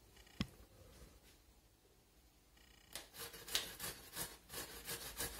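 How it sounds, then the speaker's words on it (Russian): Grating a topping on a fine hand grater over herring salad: after a quiet start, a run of quick rhythmic rasping strokes, fairly close and soft, repeating steadily for the last few seconds. "Я буду тереть на своей терке помельче сверху."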